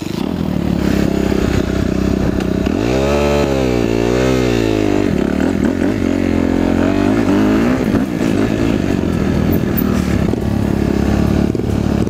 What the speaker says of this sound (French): Bon là faut que je redémarre la moto.